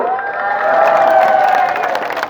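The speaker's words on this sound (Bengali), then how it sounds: "এই নেতাজির জন্য আমরা করতালি দেব" A large crowd at a BNP political rally in Rajbari, Bangladesh, claps and cheers loudly and continuously, a dense sustained wall of applause with scattered shouts.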